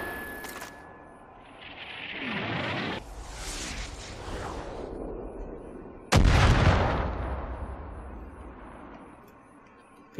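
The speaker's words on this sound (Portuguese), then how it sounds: "Usar morteiros." Mortar fire in Far Cry 5: a deep launch thump followed by a long whooshing roar, then a second heavy blast that rumbles and slowly fades away.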